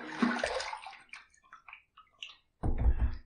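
A razor is rinsed in water while shaving, with a noisy splashing burst at the start, a string of small drips and trickles, then another strong splash of water at the end.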